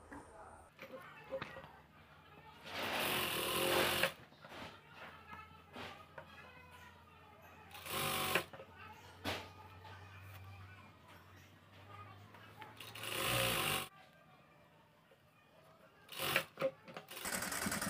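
A sewing machine stitches elastic onto palazzo pants in short, loud bursts of whirring between quieter stretches of handling noise, with a voice talking intermittently throughout.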